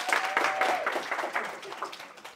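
Live podcast audience clapping, a short burst of scattered hand claps that fades over two seconds, with a faint tone and a voice briefly underneath.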